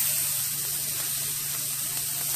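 Onions and spices sizzle in a hot wok for cauliflower rice with shrimp, giving a steady, even hiss that stays loud and continuous with no pauses or talk.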